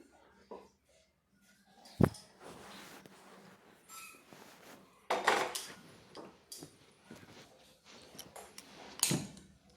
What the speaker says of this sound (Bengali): এখন আমি কড়াইটা বসিয়ে দিব।